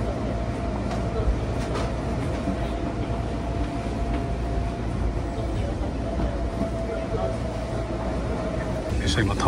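A Seibu Tamagawa Line train pulls into Tama station, heard from inside the car as a continuous low rumble with a thin steady tone and occasional clicks. Faint voices sit beneath it.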